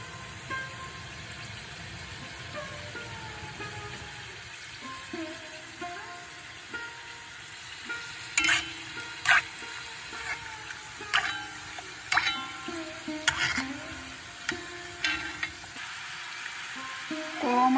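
Modak fry slowly in oil in a pan over a low flame, giving a soft continuous sizzle, with scraping stirs and clinks growing louder and more frequent in the second half.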